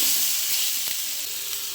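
Vegetables fry in a hot pan with oil, giving a loud, steady sizzle and hiss throughout with faint stirring scrapes.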